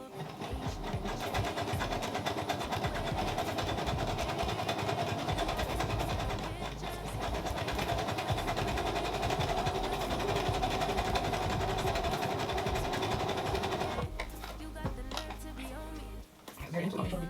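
A sewing machine stitching a frontal wig runs in a steady fast mechanical whir for a long stretch, pausing briefly and restarting, close and fairly loud.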